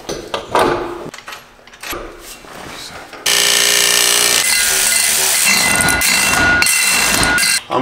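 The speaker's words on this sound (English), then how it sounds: "I'm cutting out these squares in the trunk" Sheet metal squares being cut out of a BMW E46 M3 trunk: irregular knocks and scrapes give way to a loud, sustained, harsh power-tool cutting whine that runs steadily to the end.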